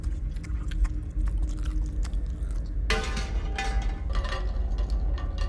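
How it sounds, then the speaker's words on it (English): Wet munching and chewing in a dark movie scene, a rhythmic crunching and smacking under a constant low rumble of background sound, growing louder and busier partway through. "the last thing you would want to hear is somebody just munching in the shadows"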